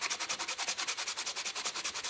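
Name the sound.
hand sanding the face off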